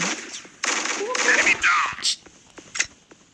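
Dodgeball shots fire in quick bursts in a video game, a run of snappy, loud, crackling impacts close together, followed by a few fainter pops with short gaps between them.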